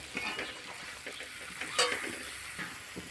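Eggplant, potato and drumstick vegetables sauté with spices in a pan, a soft sizzle broken by repeated scraping stirs and one brighter utensil clink partway through, with no voices.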